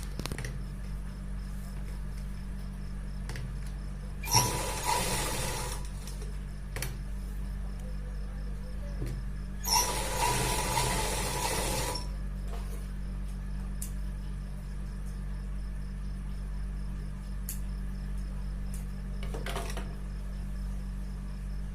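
A sewing machine stitches a pajama in two short bursts of whirring, separated by quiet stretches over a steady low hum, with a few faint clicks in between.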